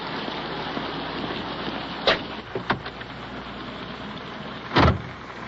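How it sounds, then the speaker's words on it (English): Steady rain patters down with a constant hiss, broken by a few brief sharp bumps and rustles. "Well, out once again in the rain. Wet and slushy out here."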